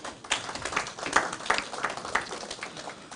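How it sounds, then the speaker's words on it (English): Audience applause at a Nigerian economic outlook event, a broad wash of scattered hand claps with irregular sharp peaks, moderately near and steady for a few seconds with no talking. "And I think we deserve a round of applause."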